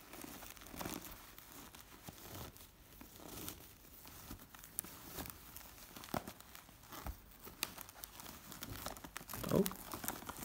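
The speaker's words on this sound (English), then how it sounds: "Let's open the next pouch." A Chanel perfume pouch being opened, with soft crinkling and tearing of packaging at close range, a steady run of small rustles and crackles without talk.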